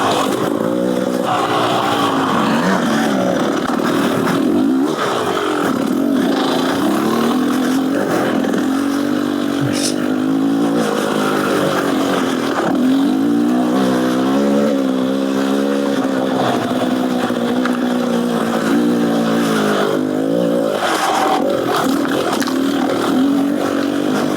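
Dirt bike engine of a 2022 Beta Xtrainer fitted with an aftermarket exhaust and jet kit, heard on a trail ride, loud and close, lugging at low revs in third gear then rising and falling with throttle changes over wind noise.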